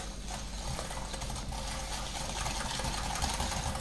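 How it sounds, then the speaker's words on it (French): A whisk beats egg yolks with sugar in a bowl, producing a continuous fast scraping and clicking rattle at close range, steady throughout with no talk. "je vais ajouter le sucre dans les jaunes et je vais fouetter."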